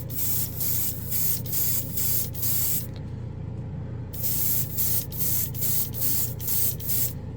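Tamiya clear blue candy paint is airbrushed over gunmetal in close, loud hissing spray bursts with rapid pulsing, broken by one short pause before spraying resumes.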